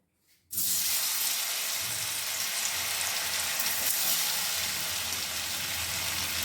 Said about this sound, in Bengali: পনিরগুলো আগে কড়াইয়ে ছেড়ে দিলাম।